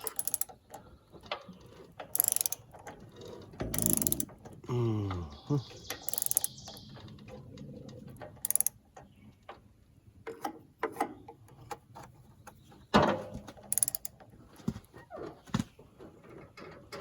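Ratchet wrench clicking as a bolt is tightened back to torque, around 50, on an engine whose belt keeps jumping off its pulley; short bursts of ratcheting clicks with pauses, close up, with some metallic handling between.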